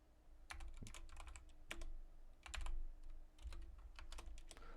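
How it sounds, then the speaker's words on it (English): Keystrokes on a computer keyboard as a terminal command is entered, with quiet irregular clusters of taps and a few pauses, heard close and soft without talk. "Now we can either type in source bash rc"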